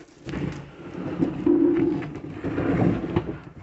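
Low, warbling parrot calls that carry on steadily and fairly close, rising and falling in strength, with no one talking.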